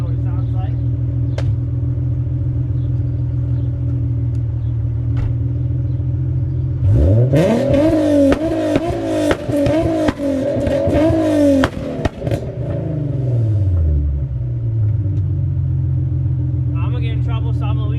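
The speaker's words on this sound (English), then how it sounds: "I found a spot to rev for you guys a little bit. So I'm gonna give you a little clip of the exhaust." A Nissan 370Z Nismo with an aftermarket exhaust idles with a deep steady drone, then is revved hard through several rising and falling bursts before settling back to a loud idle.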